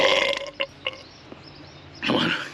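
A burp after quickly chugging a large bottle of Sprite, a brief gassy eruption near the end following strained, pained voice sounds and short noises, close and loud.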